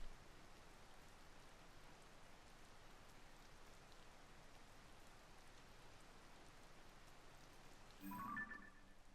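Steady rain falls in Zelda: Tears of the Kingdom, a soft, even hiss of game rainfall that continues throughout at low volume, with a brief brighter chime near the end.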